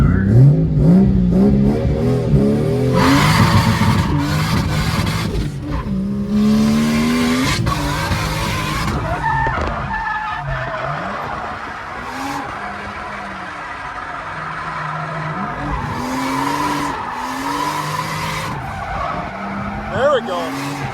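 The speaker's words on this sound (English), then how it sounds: "This is his first time ever trying to drift. This sounds so good though." A car drifting for the first time, engine revving hard and tires skidding and squealing in long screeches, with voices talking over the noise.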